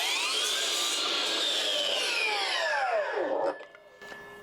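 A saw cuts the factory-cut end off a wooden doorstop for an internal door. The whine is loud and steady, then drops in pitch as the blade works through and stops after about three seconds, followed by a few light knocks.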